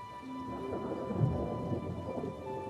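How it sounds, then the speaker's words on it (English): A thunderstorm with a steady hiss of rain on surfaces and a low rumble of thunder rolling underneath, continuous and moderately loud, with no voices. "It's still stormy."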